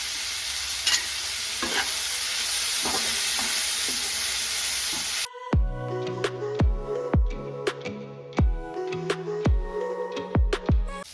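Tomatoes and vegetables frying with turmeric in a pan for chitranna: a dense hiss gives way to a run of ringing metal clinks as a spoon strikes the pan in an uneven rhythm.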